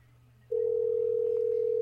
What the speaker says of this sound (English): Let's call them back and harass them. Let's do that right now.